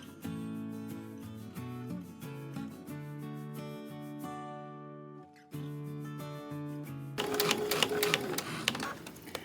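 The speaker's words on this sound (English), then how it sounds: "So let's stitch our binding together and check all our corners." A sewing machine stitches binding onto a small Christmas quilt, with a fast, steady mechanical whirr in continuous runs that briefly pause and then start again, close and loud, over soft background music.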